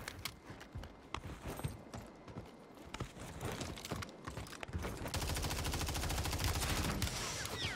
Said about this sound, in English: Somebody's shooting me somewhere.